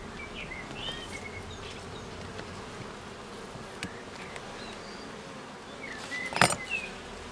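Honeybees drone steadily around standard Warsaw-type hives in an apiary in early May, a dense continuous buzz with a louder swell of passing bees near the end and faint bird chirps behind.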